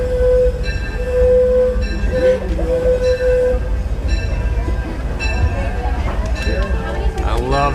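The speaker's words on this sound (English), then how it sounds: "I love the sound of the train." Disneyland Railroad train rolling along the track, a steady loud rumble of wheels with a sustained whistle tone early on, squeals and clanks later, and people talking throughout.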